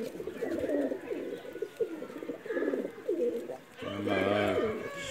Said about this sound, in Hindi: शर्मीला तूफ़ान कबूतर है जी